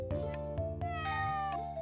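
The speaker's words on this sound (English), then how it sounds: "It let out a hearty meow." Cat meowing in the Sega Saturn game Albert Odyssey: Legend of Eldean, a short synthesized meow over the game's melodic background music, with no talking.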